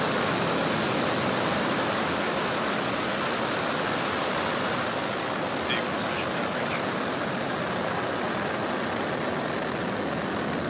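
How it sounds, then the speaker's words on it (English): SpaceX Falcon rocket engines at liftoff, a broad, continuous roar that stays loud and steady throughout, with no clear voices over it. "Engine full power and liftoff."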